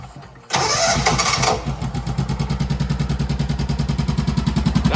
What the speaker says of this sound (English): I just started this thing for the first time with the new carburetor on.